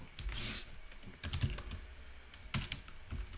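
Keys clatter on a computer keyboard during a programming session, a quick run of close, crisp clicks with short pauses between bursts, heard alone with no talking.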